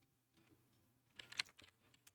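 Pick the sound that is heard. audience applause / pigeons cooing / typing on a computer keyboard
typing on a computer keyboard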